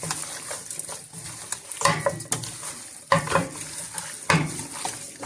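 Lamb chops being mixed by hand with squeezed lime juice in a bowl, giving a steady run of wet squelching, slapping and patter, close and fairly loud, with sharper bursts every second or so.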